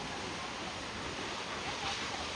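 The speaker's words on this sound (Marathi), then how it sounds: "एक नंबर वॉटरफॉल आहे" Steady, dense rush of a monsoon waterfall at Mahabaleshwar, a continuous broadband roar of falling water with a faint wind texture, heard close and unbroken with no voices.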